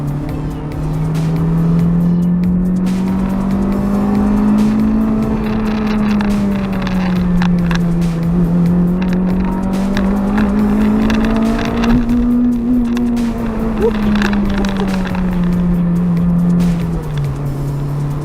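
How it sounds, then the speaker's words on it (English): A Honda Integra DC5 engine with a Mugen carbon intake drones steadily and loudly throughout, its pitch rising and falling as the revs climb and ease, with a throaty intake note. "This one also has the Mugen carbon intake, which sounds pretty nice."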